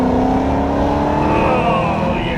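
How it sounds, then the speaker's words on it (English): A Dodge Hellcat's supercharged V8 hums steadily and loudly up close, with a thin supercharger whine rising above the deep engine drone as it accelerates. "It's a beautiful V8 hum. You get a little supercharger whine"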